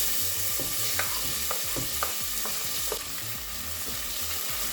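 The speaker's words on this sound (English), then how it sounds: "add the onions." Chopped onions fry in a little hot oil in a frying pan for Nigerian meat pie filling, a steady close sizzle with light scraping clicks of stirring throughout.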